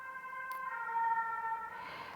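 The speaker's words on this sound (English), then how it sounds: "we're going to have a siren go past now, so let me just pause there while it goes past" Emergency siren wailing from a passing vehicle, a steady tonal wail that grows louder and brighter toward the end as it approaches, heard alone with no talk.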